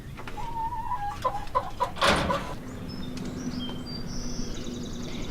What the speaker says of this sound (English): the Americanas are doing good, laying us lots of nice green eggs